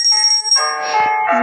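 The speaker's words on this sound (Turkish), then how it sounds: "Zil" A bell rings in the Granny horror video game, sharp and clear, with a sustained tonal chime that shifts partway through the short span, heard alone without talk.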